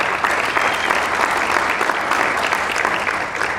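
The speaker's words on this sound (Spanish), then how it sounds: "Les pido un aplauso para Ohad." An audience at a corporate marketing presentation claps steadily for the company's CEO, a dense, even wash of applause throughout with no pause.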